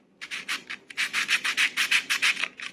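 Rhythmic back-and-forth strokes of 600-grit abrasive over the trigger and sear of a Crosman 2240 air pistol, about a dozen steady rasping passes, close and fairly quiet, with no talking.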